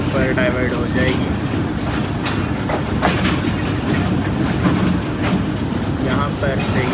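The rerouted Mianwali Express runs nonstop on rails, a loud close rumble with rhythmic clickety-clack of wheels over joints and squealing tones, heard from on board the train.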